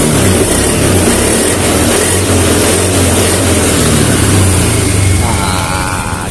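A Honda Beat FI motorcycle engine with a new injector, still prone to hesitating on throttle, runs loud and close at a steady, raspy pitch that eases slightly near the end.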